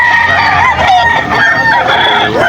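A Golden Boy Sweater gamefowl rooster crows at a busy pet market, a loud, close, wavering cock-a-doodle-doo lasting a couple of seconds with harsh clucking tones over background crowd noise.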